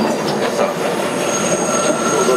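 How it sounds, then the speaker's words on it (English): A 2001 Bombardier car #6676 on a New York subway 2 local train rolls steadily, with a continuous loud rumble of wheels on rails and thin squealing tones running throughout, no voices present. "This is a 3rd Avenue 149th Street bound 2 local train"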